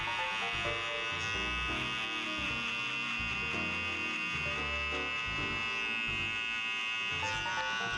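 Cheap Walmart barber-set hair clippers run with a loud, steady motor buzz and rattle that stays constant and close throughout, with no talking.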